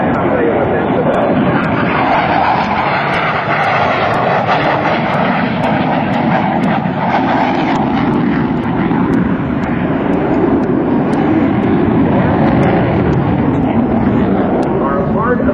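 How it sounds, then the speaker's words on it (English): An F/A-18C Hornet jet roars past with afterburner at a Navy airshow, a loud, continuous, broadband roar that fills the whole stretch, with a commentator's voice underneath. "That is the afterburner."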